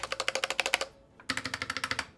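Rapid typing on a Ractous RTK61 keyboard fitted with PBT pudding keycaps, a close run of clacky keystrokes that pauses briefly and then resumes at the same quick pace.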